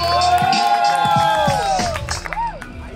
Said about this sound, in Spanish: quiero un aplauso de todos mis hermanos